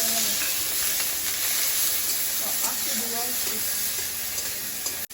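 Prawns and taro frying in a pan for a Bengali prawn curry, a steady close sizzle running throughout with faint stirring scrapes beneath.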